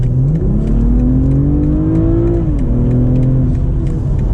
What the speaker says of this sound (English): we could do 1 acceleration here when the road is clear, go up to the speed limit